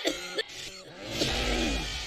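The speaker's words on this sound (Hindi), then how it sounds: "लोग खांसी से परेशान होकर इधर उधर भागने लगते हैं।" Several people coughing from smoke filling a room, harsh repeated coughs and throat clearing close by, overlapping over a noisy background.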